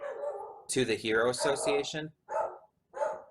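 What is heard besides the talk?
dog barking in the room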